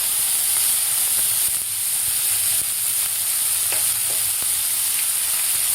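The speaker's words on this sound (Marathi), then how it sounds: "कांदा सुद्धा आपल्याला थोडासा सॉफ्ट होईपर्यंत परतून घ्यायचा आहे, जास्त लाल नाही करायचा आपल्याला" Onion sautés in a pan with mustard seeds and cumin, a dense continuous frying sizzle close up with faint occasional stirring ticks, no talking.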